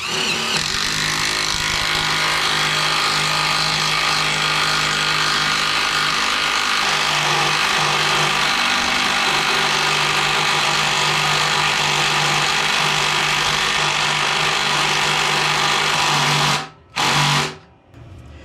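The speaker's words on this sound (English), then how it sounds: "That's why an impact driver is just so popular, because it was able to actually do that." A HART impact driver whines steadily and loudly for about sixteen seconds driving a screw into wood without a pilot hole, then cuts out abruptly, with a brief final burst before stopping.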